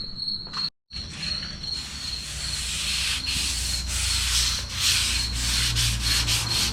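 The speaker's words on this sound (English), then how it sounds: "I'm gonna get me a piece of sandpaper and get sanding." Steady hand sanding with sandpaper, a continuous rough rasping scrape that goes on without pause, broken only by a brief silence near the start.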